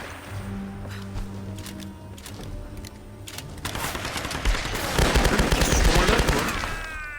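Gunfire in the video game Tomb Raider, building from scattered shots into dense, sustained automatic fire with crackling bursts and tonal game sounds underneath.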